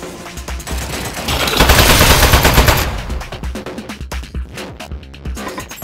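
A turret machine gun in the video game Aperture Desk Job fires loud, rapid bursts, swelling into a dense continuous volley before breaking into choppier clusters of shots.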